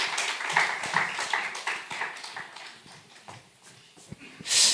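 An audience at a church regional camp meeting gives a round of applause to welcome the next speaker, scattered claps tapering off, fairly quiet and somewhat sparse.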